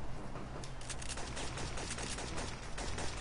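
Rapid gunfire from the Syphon Filter 2 video game, a dense continuous burst of close shots packed tightly together for several seconds with no talk.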